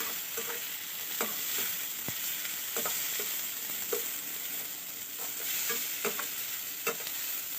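Onions sauté in a pan for a spicy broad-bean stir-fry, giving a steady soft sizzle broken by repeated spoon scrapes and clicks as they are stirred, close and without talk.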